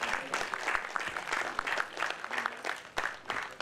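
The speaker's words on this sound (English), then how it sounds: "Keep those hands clapping, everyone" A crowd at a film festival master class claps in an uneven, rhythmic patter, fairly close and moderately loud, with individual hand claps standing out over a few seconds and no speech on top.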